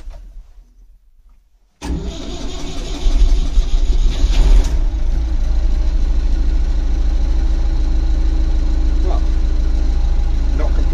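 A Massey Ferguson 590 tractor's diesel engine, left unused for a couple of weeks, cranks and fires after a short quiet pause, then settles into a loud, steady, rumbling idle close by.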